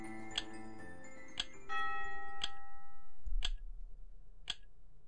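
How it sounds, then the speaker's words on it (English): An in-game clock in The Mirror Lied ticks in a slow, steady rhythm of sharp knocks about once a second, with a resonant chime ringing out under the ticks partway through and no voices. "I hear a clock."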